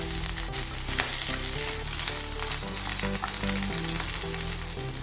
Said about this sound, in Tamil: இப்போ இதில் நம்ம மீனை ஃப்ரை பண்ணிக்கலாம்.